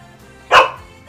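A puppy lets out a single short, sharp bark close by, loud and abrupt against an otherwise quiet room.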